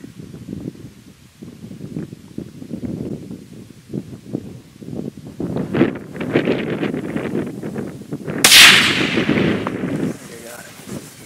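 Rifle shot while hunting blacktail deer on Kodiak Island, outdoors in wind: one sharp loud crack stands out late, amid constant blustery wind noise on the microphone and some low voices.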